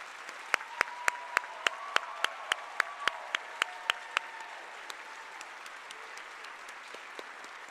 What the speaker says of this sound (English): Can we have one more round of applause for all of our graduates?